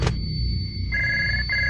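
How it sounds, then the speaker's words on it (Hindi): Telephone ringing as a sound effect in a spoken Hindi ghost story: a sharp click, then a steady electronic ring tone that cuts off briefly and resumes, loud and close, with no voices over it. "फोन बजा।"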